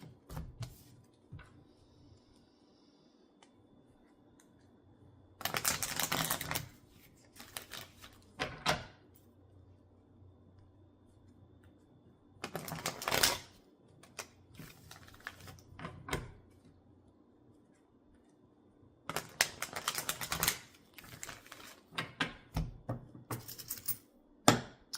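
Tarot cards being shuffled in short bursts of crisp riffling and flicking, several separate shuffles with quiet pauses between, close and alone.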